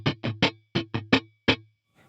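Seven dry, percussive strums of a funk guitar with every string choked by the fretting hand, clipped thuds in an uneven rhythm with no notes ringing out, then a faint rustle.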